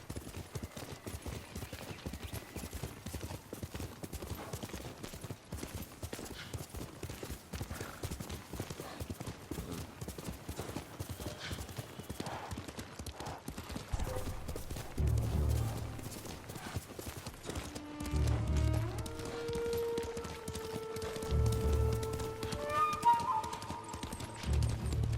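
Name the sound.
horse Sora hooves and neighing in video game Ghost of Tsushima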